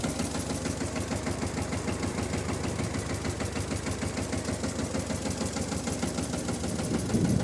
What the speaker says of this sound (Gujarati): આમાં આયલું આવે છે ટ્રેક્ટર